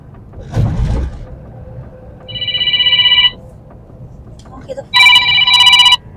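A telephone rings in two bursts of electronic trilling, the second louder, after a brief thump and some faint background noise.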